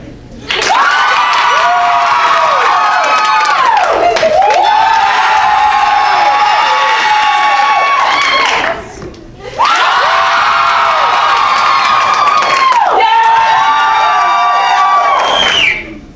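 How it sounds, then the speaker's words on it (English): Loud crowd at a Halloween show cheering, whooping and shouting in two long bursts, with children's shrill yells prominent, a brief dip near the middle before the roar resumes. "You clap for the one that you want out of the game"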